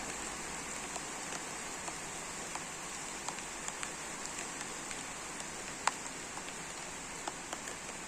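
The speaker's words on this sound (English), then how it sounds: "It is actually raining right now." Continuous gentle rainfall, a soft even wash with occasional light droplet ticks scattered throughout, no one speaking.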